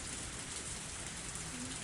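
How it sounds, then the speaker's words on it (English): Heavy rain in the visual novel game Higurashi When They Cry, a steady, dense hiss of downpour filling the whole stretch with no break or talk. "It suddenly started raining heavily."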